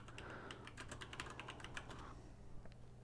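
Fingers tap quickly on a computer keyboard in a steady run of light, close key clicks that ease off toward the end, with no talking.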